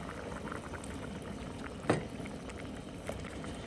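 Street-stall hot pot of assorted meats simmering in a pot, heard as a quiet, continuous bubbling with one brief louder pop or splash midway.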